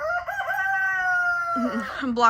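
A rooster crows once nearby at a chicken coop, a long rising call with a falling end, clear and loud over a quiet background.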